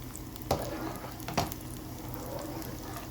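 Marinated fish frying in a pan gives a steady low sizzle throughout, broken by two sharp clatters of utensils, with no talk.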